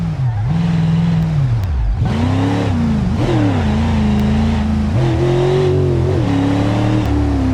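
A truck in BeamNG drifts with a close, loud engine revving up and down in repeated surges as its pitch climbs and drops through gear changes, with no talking.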